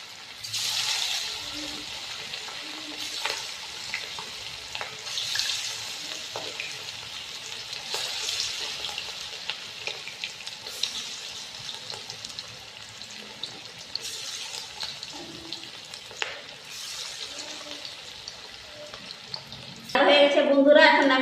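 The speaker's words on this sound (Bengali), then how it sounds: "এখন চিকেন চিলি ভেজে নিব" Chicken chili sizzles in hot oil in a home kitchen pan, a steady crackling fry broken by periodic scraping and stirring, with a louder burst of sizzle near the end.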